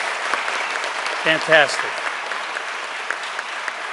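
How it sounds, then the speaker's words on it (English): Audience applause at a police academy graduation ceremony, a steady broad wash of clapping throughout, with someone briefly speaking over it near the middle. "Let me hear a nice round of applause to start the evening off."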